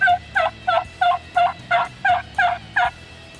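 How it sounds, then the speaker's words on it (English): Wild turkey yelps ring out loud and close in a steady rhythmic series of about nine evenly spaced calls, with no other sounds competing. "turkeys have the same rhythm to their calling"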